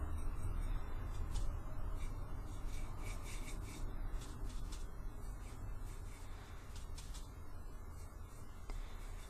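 A brush is worked over a wooden shaker, spreading watered-down stain into its crevices, giving a quiet, continuous scratchy rubbing with light intermittent strokes and no talk.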